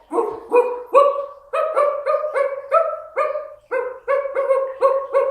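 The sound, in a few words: person imitating dog barking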